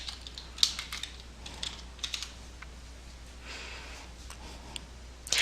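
Soft clicking of computer keyboard keys at close range, light irregular taps in small runs with brief gaps, ending with a short flurry of faster strokes.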